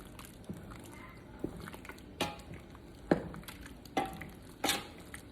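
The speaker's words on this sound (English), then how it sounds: "Now I'm gonna stir." A spoon stirs plum jam cooking in a pot, giving soft, quiet scraping knocks spaced about once a second over a low, steady background.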